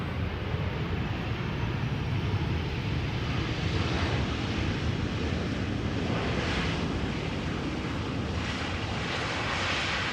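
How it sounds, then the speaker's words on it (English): A four-year-old KLM Boeing 737-800 arriving at Amsterdam Schiphol Airport from London Heathrow, heard as a steady, broad jet roar mixed with wind that holds at an even level for the whole stretch, with no voices. "This is KLM flight 1002 arriving from London Heathrow."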